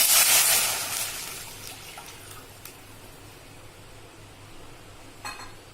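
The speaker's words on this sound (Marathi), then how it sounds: "कढई तापली आपण आता पाणी टाकूया" Water poured into a hot kadhai while making ukadiche modak dough, a loud hissing rush at the start that fades into quiet bubbling with a couple of faint clinks.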